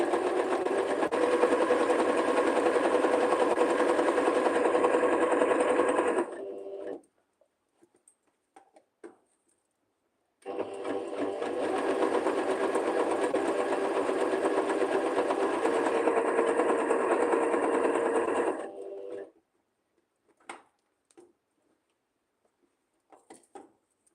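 A sewing machine runs in two long, steady whirring bursts of about six and eight seconds, close by, with a few light clicks in the quiet between them.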